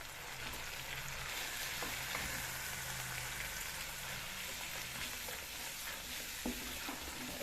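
Spices being stirred and fried in a pan for a fish soup curry, a steady close sizzle with scraping stir strokes throughout, no voices.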